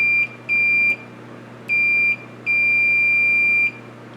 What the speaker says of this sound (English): That's why it beeps for a little bit and then stops beeping, because the capacitor has to discharge